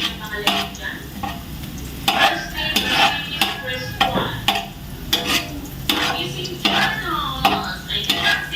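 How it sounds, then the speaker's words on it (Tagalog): Ground pork goes into a hot pan for spaghetti and is stirred, with steady sizzling and frying under repeated sharp metal scrapes and clinks of a spatula against the pan, close and fairly loud. "Tatabi ko muna po at ilalagay ko na yung giniling."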